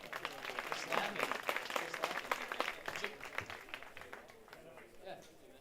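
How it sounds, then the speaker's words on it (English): Scattered audience applause at a collegiate summer baseball all-star game, a moderate burst of clapping that thins out over several seconds, with a voice talking over it. "Hey, round of applause, guys."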